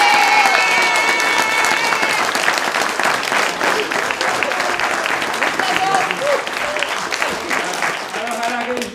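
Theatre audience applauding at the end of a stage play, dense sustained clapping filling the whole stretch, loud and steady with slight tapering toward the end, with faint crowd murmur beneath.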